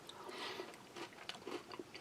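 A crispy wheat flour and bran cracker from a United Arab Emirates ration is chewed up close, with soft, steady crunching and biting at a low, quiet level, without any talk.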